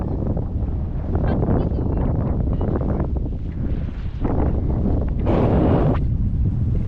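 Strong wind buffets the microphone in loud, roaring gusts that rise and fall during a tandem paraglider landing at Kunda, Estonia, with a sharper hiss near the end.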